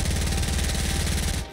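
Game machine gun fires a rapid, even burst of loud shots for over a second, then cuts off abruptly.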